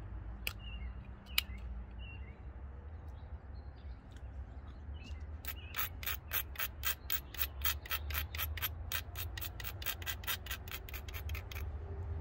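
A flint core's knapping platform is ground with rapid scraping strokes, faint at first, then a quick regular series of close rasping rubs with a low steady hum underneath.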